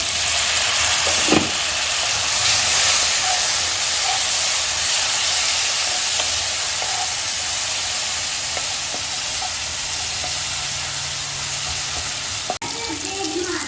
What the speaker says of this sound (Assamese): মছলা ভাজি হৈ গৈছে